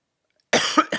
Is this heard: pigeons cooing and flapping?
no